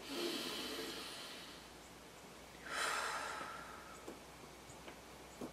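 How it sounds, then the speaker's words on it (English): A single deep inhaled breath, close and fairly soft, rising as a broad airy hiss after a quiet stretch and easing off, followed by a few faint ticks in an otherwise calm setting. "Take a deep breath in."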